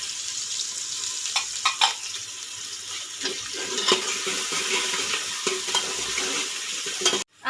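Onions and cumin seeds fry in a pan with a constant bright hiss, while spoon clinks and scrapes come through at intervals and a louder knock lands at the very end.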